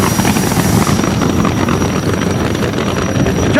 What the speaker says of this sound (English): He's going to be taking on the jet-powered funny car.